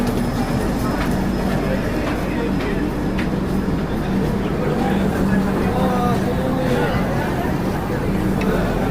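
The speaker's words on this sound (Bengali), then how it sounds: "ট্রেন আমাদের ছেড়ে বেরিয়ে যাচ্ছে।" A passenger train pulling out of Ghatshila station, a continuous loud rumble of rolling wagons with squealing tones, under a busy platform babble of people talking.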